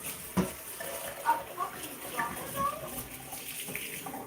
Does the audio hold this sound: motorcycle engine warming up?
no